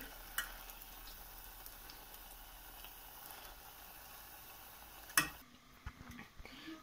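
Malpua batter frying in a tawa-type pan gives a faint, steady sizzle, broken by a sharp clatter near the end and a few soft knocks afterward.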